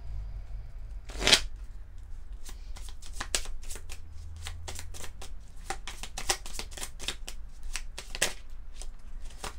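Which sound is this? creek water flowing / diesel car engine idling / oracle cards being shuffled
oracle cards being shuffled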